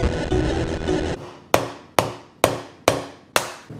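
Five sharp hammer strikes land at a steady pace, each ringing briefly before the next, following a short stretch of dense, rumbling noise.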